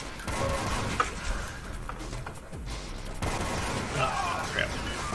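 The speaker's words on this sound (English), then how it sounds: "Secondary fire on the mortar gives a little bit of a delay." Mortar secondary fire in the arena shooter Rexuiz, with muffled, delayed blasts and crashing booms layered into a dense, continuous stream of game gunfire.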